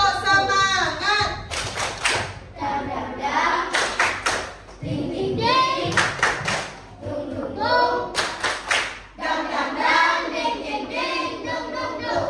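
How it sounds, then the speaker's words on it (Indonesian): A class of children in an Islamic school does a spirit clap, sharp group hand claps in bursts with rhythmic patterns, loud and close, mixed with a teacher's voice and children calling out between the claps. "Tepuk semangat"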